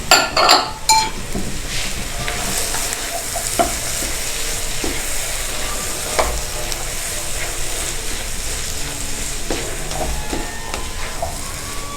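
Cream frying in a pan on low heat, a steady soft sizzle with a spoon stirring and clinking against the metal pan, a few sharp scrapes at the start, close and continuous.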